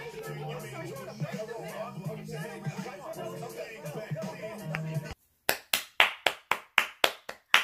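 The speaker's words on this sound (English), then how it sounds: "I'm clapping up." A person claps hands at the end after a stretch of background music and show audio, about a dozen sharp, loud, close claps in a steady rhythm.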